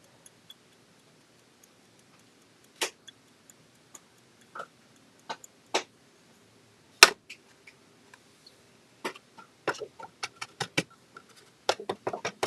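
Gold embossing powder is tapped off a craft piece with faint, irregular light taps. The taps come sparse at first and grow more frequent toward the end, in a quiet room.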